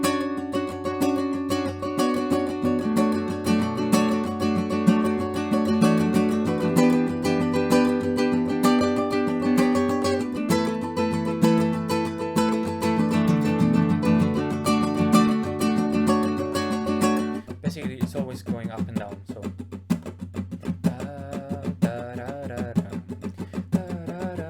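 Acoustic guitar playing a song, strumming and picking steadily for about twenty-five seconds alone, close and full, with a change in pattern near the end.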